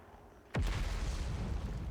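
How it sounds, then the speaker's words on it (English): An explosion in the video game Outer Wilds, with a sudden deep boom that breaks in after a quiet moment and then rumbles on, loud and heavy, for the rest of the stretch. "Well, I found out what the explosions were."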